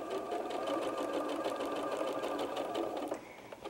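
A sewing machine runs a 1/4 inch seam through paired quilt fabric pieces, a steady close rhythmic whirring of needle strokes that slows and stops near the end.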